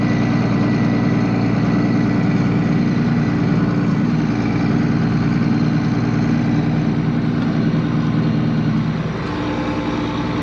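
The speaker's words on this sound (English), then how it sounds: "I gotta move this four-wheeler." A four-wheeler ATV engine idles close by on a farm, a loud steady low rumble holding for the whole stretch and easing slightly at the end, with no talking.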